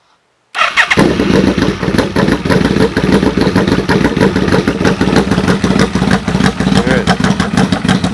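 A 1995 Yamaha VMAX 1200 motorcycle with a UFO dual exhaust starts after a brief silence, then settles into a loud, close, rumbling idle with a steady throbbing pulse.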